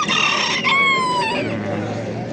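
A rooster crows close by at a poultry market, one loud drawn-out crow with clear ringing tones, followed by clucking and busy market noise with voices in the background.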